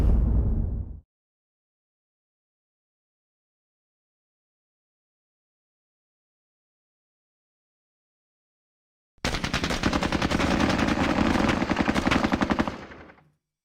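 Bursts of automatic gunfire in the Squad Battles Eagles Strike war game: a short loud burst at the start, a long pause of silence, then a sustained rapid machine-gun volley for several seconds that cuts off.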